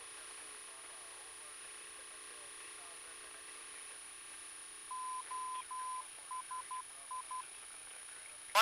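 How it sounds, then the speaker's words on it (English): Morse code identifier of the Woodside VOR station near Palo Alto, heard over an aircraft navigation radio: a steady tone sounding as a short series of dot-dash beeps in the second half, over a constant faint hum and high whine. "But did you listen to the Morse?"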